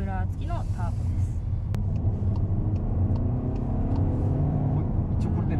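A Volkswagen Tiguan TDI with a 2-litre inline-four turbo diesel and intercooler pulls hard under full throttle, heard from inside as a steady, deep engine rumble beneath people talking.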